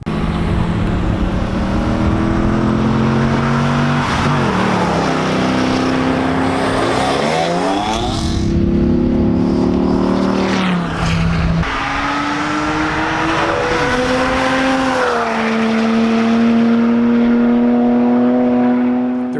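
Loud race car engines, including a C5 Corvette and a turbo E36 M3, roar continuously at a track day, revving and shifting pitch as cars accelerate and pass by, with no talking.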